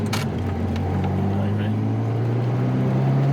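A Ferrari 348 ts out on the road, still warming up, its engine droning steadily with a low, rising tone that runs loud and close throughout, with a brief higher sound near the start.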